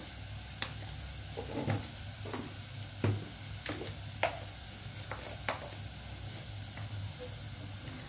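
Egg bhurji with chili, coriander powder and garam masala heating in a pan, a soft continuous sizzle broken by scattered scrapes and taps of stirring.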